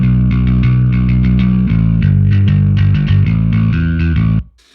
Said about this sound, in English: I'll blend this distortion track in